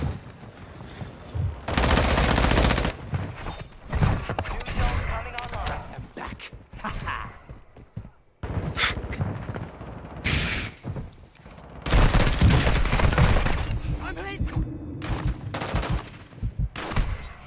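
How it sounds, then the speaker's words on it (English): Enemy soldiers fire in a video game. Loud bursts of automatic gunfire come in several separate volleys with quieter gaps between them, and talk and game noise fill the pauses. "Enemy soldier shooting incoming."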